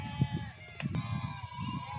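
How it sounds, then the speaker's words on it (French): Flock of sheep grazing in village orchards of the Atlas mountains, Morocco, with low bleats rising repeatedly from a steady murmur of animal sounds, moderately close. "Des troupeaux de moutons pâturent les vergers des villageois, amandiers, figuiers et les fameux arganiers."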